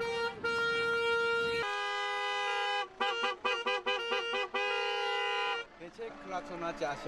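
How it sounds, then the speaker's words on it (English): Car horns honk persistently behind a wedding procession heading to church in Romania: long sustained blasts, then a rapid series of short rhythmic toots, followed by a brief spoken voice and street noise. "At that moment, cars follow in the rear and honk persistently."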